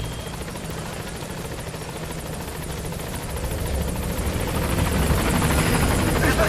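The Pequod helicopter in the video game Metal Gear Solid V arrives at a landing zone, its rotor chopping rapidly and steadily and growing louder as it draws closer.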